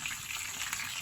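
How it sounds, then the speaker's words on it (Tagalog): Cooking oil sizzles and spits in a pan, a steady close hiss of frying with no voices over it. "Nakita ko lang kasi kumukulo-kulo. Tumitilat-tilansik yung mantika."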